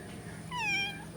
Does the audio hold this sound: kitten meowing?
yes